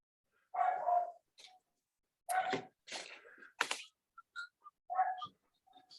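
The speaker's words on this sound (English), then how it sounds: "Can you guys hear Bella's barking down there?" Several separate barks from a dog named Bella, coming from downstairs and sounding somewhat distant, arrive in short bursts with quiet gaps between them.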